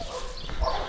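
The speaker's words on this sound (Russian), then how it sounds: "Он только одинокий пес." A lone dog yaps briefly at a distance outdoors on a foggy evening walk, a short faint bark standing out against quiet background noise with no talk over it.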